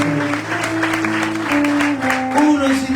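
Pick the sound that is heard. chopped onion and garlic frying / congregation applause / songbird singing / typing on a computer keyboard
congregation applause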